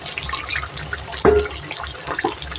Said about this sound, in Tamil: இப்போ தண்ணி ஊற்றிக்கலாம்